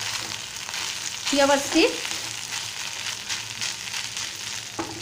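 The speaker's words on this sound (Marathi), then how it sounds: "आता व्यवस्थित परतून घेऊया भात" Cooked cumin rice sizzles and fries in a pan as it is stirred and sautéed, with a couple of louder stirring scrapes near the start; a voice says a word briefly.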